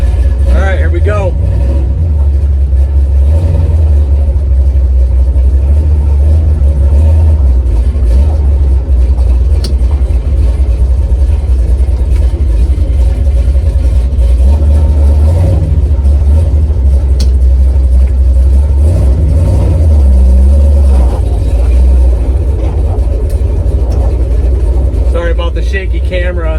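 A heavily cammed 1970 Chevy Nova muscle car with solid motor mounts rumbles steadily while driving, a loud deep engine drone with mild swells in revs and constant low-end throb, heard from inside the car.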